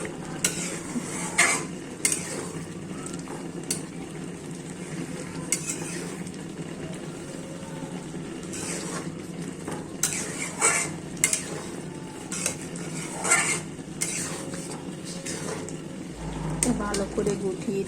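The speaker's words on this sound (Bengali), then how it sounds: "লাড়তে লাড়তে একেবারে শুকনো করে ফেলবো।" Bombay chili chutney being stirred in a pan until dry: continuous crackling sizzle broken by repeated clacks and scrapes of a spoon against the metal, with a soft voice now and then in the background.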